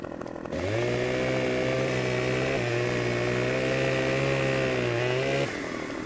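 A chainsaw in Farming Simulator 2015 revs up and runs at a loud, steady high roar while cutting trees, dipping briefly mid-cut before dropping back to idle, with no talking.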